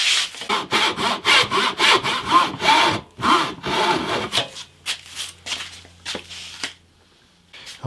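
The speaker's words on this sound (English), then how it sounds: "Now I just need to cut down to that angled line." A handsaw cuts through the end of a wooden guitar neck in quick, close rasping strokes that slow and thin out into a few scattered scrapes before falling quiet.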